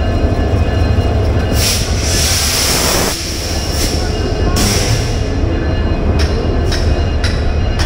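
A passenger train bound for Rangpur rumbles along loudly and close, its wheels clattering in a steady rhythm with a few bright metallic squeals.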